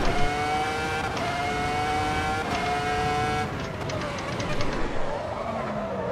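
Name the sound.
race car engine in Assetto Corsa EVO video game, Imola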